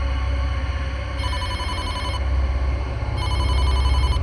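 A telephone rings in repeated electronic trills over a steady low hum, the bursts coming in a regular on-off pattern.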